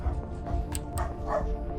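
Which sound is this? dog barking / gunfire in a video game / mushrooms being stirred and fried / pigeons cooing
dog barking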